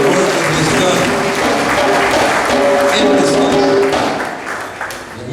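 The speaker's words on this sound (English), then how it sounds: "I believe it would not be too much for us, for me to ask you to give him a round of applause tonight for the work that he's done." Loud sustained applause from a symposium audience honouring Eusi Kwayana, thick continuous clapping with a few voices mixed in, easing slightly near the end.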